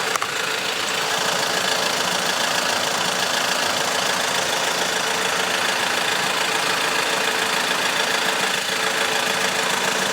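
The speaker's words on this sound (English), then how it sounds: "That's why it's very important to keep the engine running." An Audi engine with a 0AW CVT automatic transmission idles steadily during a transmission oil check, a continuous, loud mechanical hum with a faint knocking texture and no pauses.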